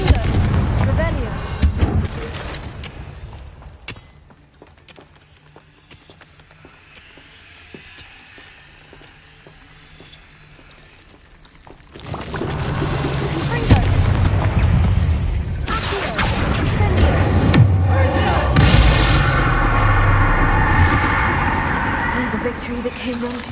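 Confringo blasting spell explosions in the Hogwarts Legacy video game, a few booming bursts at the start, then a quieter stretch before dense, loud, sustained blasting and rumbling takes over for the second half.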